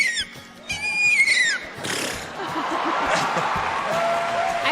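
A performer on a talent-show stage imitates a horse with her voice, giving one loud, shrill whinny that trails off, followed by a crowd cheering and applauding.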